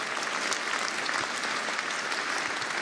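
Dense crowd applause at a Jean-Luc Mélenchon political rally in Nantes, an even wash of many hands clapping, heard at a distance and fairly soft, with no break for the whole three seconds.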